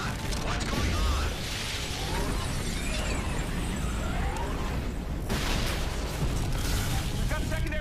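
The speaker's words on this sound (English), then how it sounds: "We've got secondary explosions in the engineering area." Secondary explosions ripple through a spaceship's engineering area as a continuous dense roar of rumbling bursts, crackles and mechanical clatter, with a sharper blast swelling near the end.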